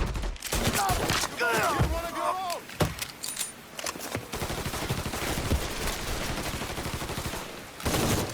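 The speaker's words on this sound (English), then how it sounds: "I won't stop shooting!" Rapid gunfire crackles through a firefight in the video game Mafia III, dense bursts of shots over busy game noise, with voices shouting in the mix.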